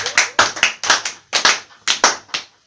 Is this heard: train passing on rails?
no